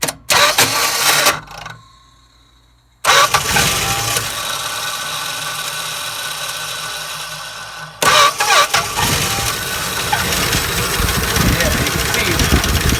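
A 1963 Dodge 330 with a Slant 6 engine and a worn cam lobe cranks, stops, then catches and runs loudly on its own, with a brief dropout before the idle resumes roughly; no talk is heard.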